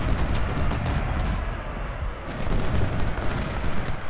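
Massed artillery booms in a Civil War strategy game set at the Battle of Shiloh, with heavy overlapping blasts merging into a loud, continuous rumble, briefly easing before swelling again.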